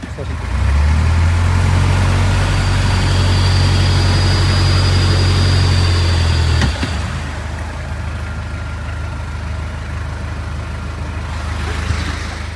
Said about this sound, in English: Decided to put his engines on